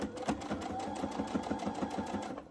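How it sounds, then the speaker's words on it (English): A sewing machine stitches quilt binding, its needle running in a fast, even mechanical rhythm, close and steady throughout with nobody speaking. "back stitch 1 or 2 times to the edge, and then start sewing in"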